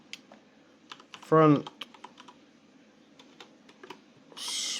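Light clicks of typing on a computer keyboard tap out in a loose, uneven rhythm at close range, broken by a brief spoken word and a burst of hiss near the end.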